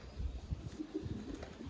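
A racing pigeon cock bird coos in a loft, several low throaty bursts in an uneven rhythm, close and fairly loud with no talk.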